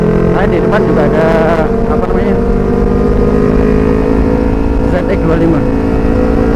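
A Kawasaki ZX25R motorcycle's exhaust drones loudly and steadily up close, swelling slightly at moments, while someone talks underneath the engine noise.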